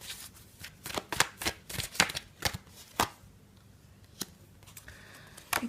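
Tarot cards being shuffled by hand, a series of quick, crisp riffling snaps in irregular bursts, close and fairly quiet, with longer pauses between shuffles toward the end.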